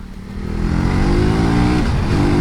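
KTM Duke 250 motorcycle engine revving hard, a steady loud roar that climbs in pitch and holds high, close by with no talk.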